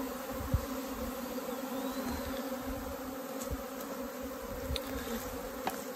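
A honeybee swarm being caught and settling on the ground gives off a dense, continuous buzzing drone, close and steady, with occasional brief bumps and no voices.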